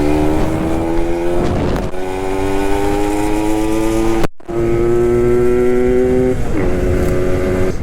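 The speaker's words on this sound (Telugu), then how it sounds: "ఈ ట్రాఫిక్ భయంకరంగా ఈ రోడ్డు" Dense, loud road traffic passes close by during a ride on a Suzuki Max 100 motorcycle, with sustained engine drones and rising and falling tones from several vehicles. A short dropout breaks the sound midway.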